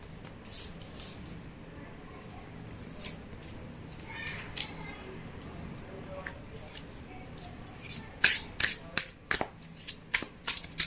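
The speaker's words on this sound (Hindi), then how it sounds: "पहले आप मेरे व्यूअर्स के लिए कार्ड निकालेंगे, फिर आपके पर्सन के लिए निकालेंगे।" Tarot cards shuffled and drawn by hand for a love reading, with soft rustling and scattered light clicks, building to a quicker run of crisp card snaps near the end; faint talk sits beneath.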